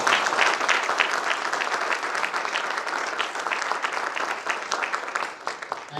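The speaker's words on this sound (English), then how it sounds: "I want to start the meeting with a round of applause for the officials" An audience at an Indian-American business meeting claps steadily in a dense, sustained round of applause that stays loud throughout, with no talking over it.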